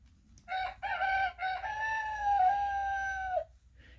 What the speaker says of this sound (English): The noisy rooster says,